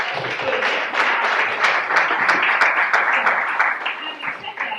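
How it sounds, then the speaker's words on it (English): Crowd applause at a community anti-violence gathering honoring a pastor: brisk, loud clapping with sharp individual claps standing out, while a voice carries on talking over it. "So we applaud you again, Pastor"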